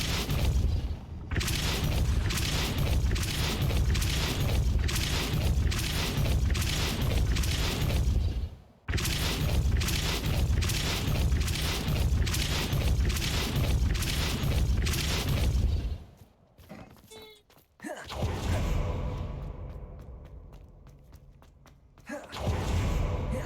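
Explosion spells go off in Hogwarts Legacy: loud, dense booming blasts and crashing impacts fill the scene almost continuously, broken by a brief gap, then giving way to quieter rumbling debris near the end.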